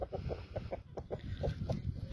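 Brahma hens cluck softly in a quick, rhythmic series of short calls, fairly faint and close, with no talking.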